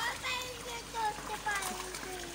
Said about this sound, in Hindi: बिलावल आप क्या कर रहे हैं, पानी दे रहे हो,